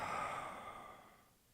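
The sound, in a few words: breathing out through an open mouth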